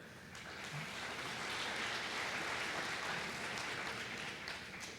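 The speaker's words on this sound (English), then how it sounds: "a round of applause for Anne" An audience applauds Anne at a presentation, a steady, dense wash of clapping that fills the room for the whole stretch without breaks, fairly loud and close.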